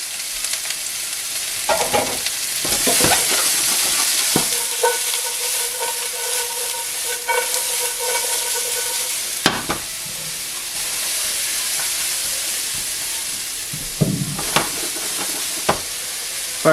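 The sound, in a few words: vegetables stir-frying in a pan for General Tao chicken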